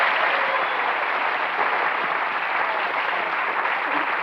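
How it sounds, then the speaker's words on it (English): A television game-show studio audience applauds in a steady, even roar of many hands clapping together. It stays loud and unbroken throughout, with no talking. "Give them a round of applause."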